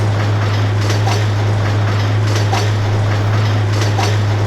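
A steady mechanical hum with a constant low drone and faint rhythmic clicking from a model train running continuously around its track nearby.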